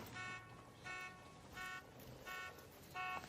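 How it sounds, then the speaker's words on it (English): Repeated vehicle horn honks in the video game Moonlighters 2, five evenly spaced bursts of about half a second each, moderately loud over a low background hum. "Stop honking."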